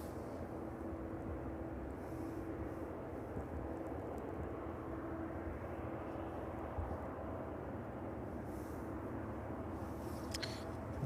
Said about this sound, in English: Inbound Chewy aircraft there.